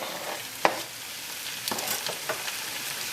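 Six chopped tomatoes go into a pan of sizzling spices for a Nepalese Gurkha curry, a quiet hiss with a sharp clatter near the start and soft stirring scrapes after.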